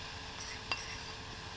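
Cheese mix being stirred into Mountain Dew reducing in a pan, a steady soft bubbling sizzle with faint stirring scrapes and a single light metallic clink partway through.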